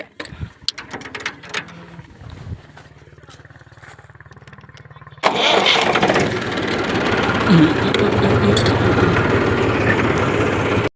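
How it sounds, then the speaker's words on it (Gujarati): A tractor engine cranks and catches halfway through, jumping from a quieter chugging idle to a loud, steady diesel rumble that runs to the end. "ટ્રેક્ટર લઈને ઘરે જવાનું છે. ચલો નીકળીએ. ચાલુ કરવાનું છે."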